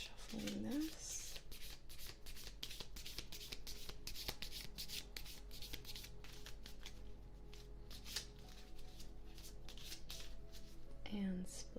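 Tarot cards are shuffled close up in a quiet ASMR setting, a rapid run of crisp riffling and sliding flicks repeating throughout, with soft speech at the start and end.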